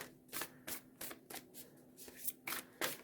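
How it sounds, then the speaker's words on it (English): Tarot cards are shuffled by hand in a quick, rhythmic run of about nine crisp riffling bursts, close and quiet, with no talking. "We'll just shuffle them on camera,"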